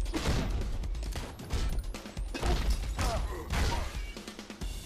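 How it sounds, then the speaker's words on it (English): Dense gunfire and impacts from the top-down action game Mr. Shifty, rapid bursts of shots and crashes packed together at close range, loud throughout with no talking. "Let's keep shooting them at this angle."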